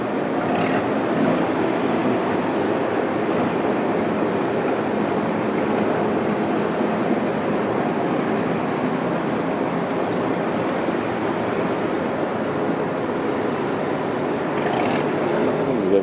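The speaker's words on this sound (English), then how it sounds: "There's another one coming there." A train rumbles steadily past, a continuous low roar with faint rhythmic rattling, no voices.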